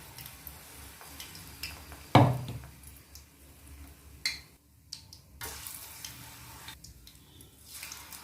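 Batter-coated susiyam sweet balls, dipped in maida flour batter, drop into hot oil with a sudden loud sizzling burst, then a softer, steady frying hiss continues with a few faint clinks.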